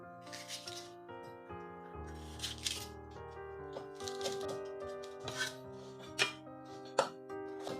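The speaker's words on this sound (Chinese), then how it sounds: "切一个红辣椒，一个青辣椒，" A knife chops red and green chili peppers on a board in a home kitchen, a run of quick, close dry cuts with a few sharper knocks, under steady background music.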